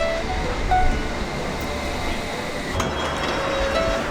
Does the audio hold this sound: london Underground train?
yes